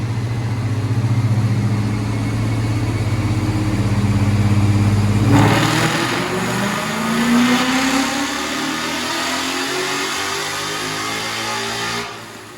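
A Ford Coyote-swapped car engine with an aftermarket air intake hums at low revs, then kicks up sharply and climbs steadily in pitch as it accelerates hard, loud and close, before easing off.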